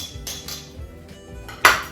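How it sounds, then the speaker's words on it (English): Garlic and onion tipped into a cooking pan for spinach and lentil dhal, with a few clinks and knocks of metal cookware and a sharper clatter near the end. "Add your garlic and your onion to the pan."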